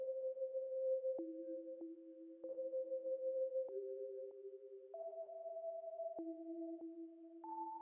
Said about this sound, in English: Next one shot I use is like this bell synth that sounds like this.